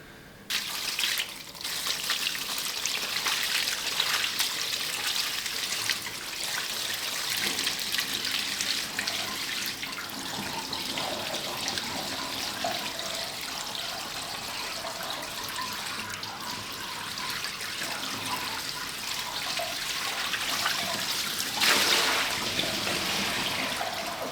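Coolant poured from a bucket into the tank of a homemade CNC machine with linear motors, a continuous splashing gush of liquid that stays steady and close for the whole stretch and swells briefly near the end.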